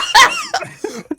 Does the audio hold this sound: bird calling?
no